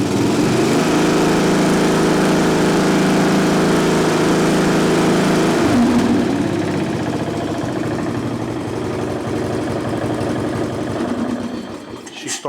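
A Craftsman riding lawn mower engine runs steadily nearby after a carburetor fix, a loud droning buzz that shifts pitch partway through and tapers slightly near the end, with no talk.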